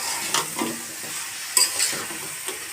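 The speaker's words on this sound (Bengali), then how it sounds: "আমি শালগম ভাজবো" Turnips tossed with cooked-down spices in a pan sizzle steadily, with several sharp scraping stirs of a spatula cutting through at uneven intervals, close and fairly loud.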